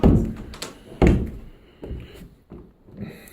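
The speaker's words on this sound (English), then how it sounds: "Okay. See, that door closes." A closet door swung shut in a house, giving two solid wooden thunks close by and then softer knocks and rattles, with no talking.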